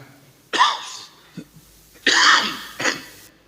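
A person coughs and clears their throat in a few harsh bursts, close by, with short quiet pauses between them, during a Sunday church service.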